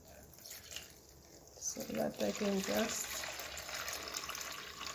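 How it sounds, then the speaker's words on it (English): Water is poured into a bowl while making sausages, a brief trickling, splashing pour rising in the middle of the moment while a person talks over it. "let me just pour the water in here"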